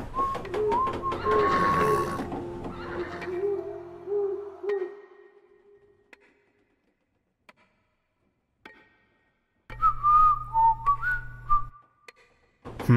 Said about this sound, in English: The owl doesn't look too impressed with my whistling.